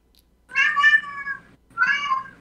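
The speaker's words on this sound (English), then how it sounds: "There's my cat running his mouth again." A house cat meows twice, with two drawn-out, clear cries separated by a short pause, close and fairly quiet against silence.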